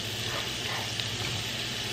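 Scallions frying in a little oil give a steady, continuous sizzle with soft crackle throughout, fairly even in level and alone with no talking.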